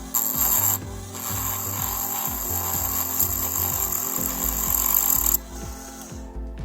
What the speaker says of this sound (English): the file has caused those deeper scratches right here